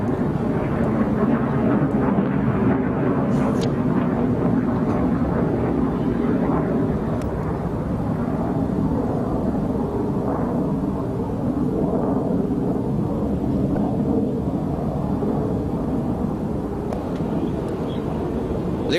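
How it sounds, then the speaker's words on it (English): Military jet aircraft fly past in formation at a Pakistani military air show, a loud sustained roar rumbling and swelling over about twenty seconds with outdoor wind noise. "There goes the last aircraft of formation,"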